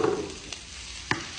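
Onion and shrimp sautéing in a pan, a soft continuous sizzle with a couple of brief clinks or scrapes from stirring, fairly quiet and close.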